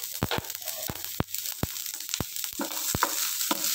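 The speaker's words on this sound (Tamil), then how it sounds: "பூண்டு நல்லா வதங்கணும்," Garlic fries in oil for vatral kuzhambu, a bright crackling sizzle broken by several sharp, regularly spaced knocks or scrapes of a spoon against the pan, close and alone.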